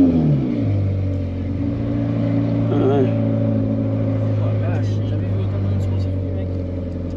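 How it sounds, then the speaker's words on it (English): A Ferrari Challenge Series race car engine idles with a deep, steady drone that holds throughout, a brief blip of revving at the start, while people speak quietly nearby. "Je vais vous faire un ou deux petits revs"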